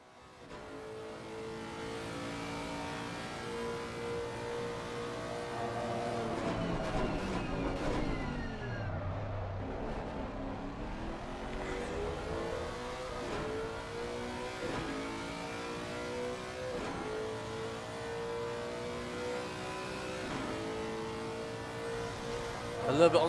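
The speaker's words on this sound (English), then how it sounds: "Hear that wonderful, chunky, American-Japanese hybrid engine." A chunky American-Japanese hybrid race car engine in a sim racing game at the Red Bull Ring, heard on board with steady revving, rising and falling through gear shifts, loud and continuous, with a commentator talking over it.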